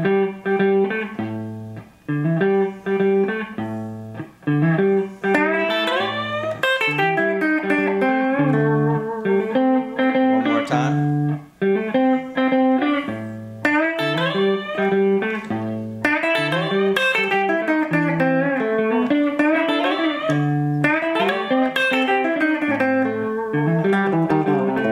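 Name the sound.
guitar blues scale lick with bends and slides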